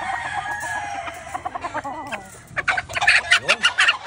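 A Goldenboy Sweater rooster crows loudly and nearby, with clucking chickens and other birds around it, in a lively farmyard.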